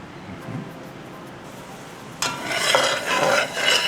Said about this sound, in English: We are browning, we are making our own browning here.